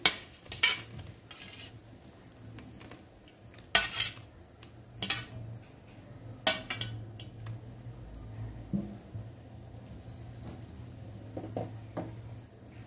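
Okra pieces drop into a simmering bhendi saar curry in a pot, with a few sharp metal utensil clinks and scrapes over a low bubbling background.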